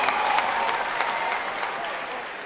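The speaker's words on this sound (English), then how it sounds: "one more round of applause" Steady, dense applause fills a talent show hall, a large audience clapping continuously without pause for the whole stretch, loud and even with faint crowd murmur underneath.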